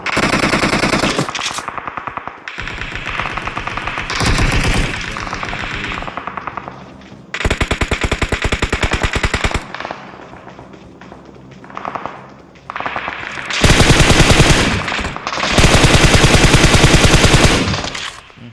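Video game shooter gunfire, loud rapid automatic bursts in several long runs separated by short gaps and single shots, close and dominant with no talk.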